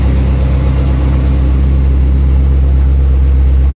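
A cheap BMW M5 race car being rebuilt, its engine revving hard and loud without pause, a dense roaring drone heard up close with no talking.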